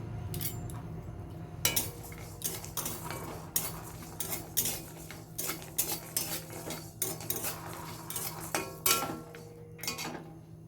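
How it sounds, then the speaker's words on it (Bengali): Chillies, cashews, fenugreek and cumin being stirred as they fry in a pan, a metal spoon scraping and clinking against the pan in irregular bursts over a faint sizzle. "আমি এখন এই যে মশলাগুলো সব ভেজে নেবো।"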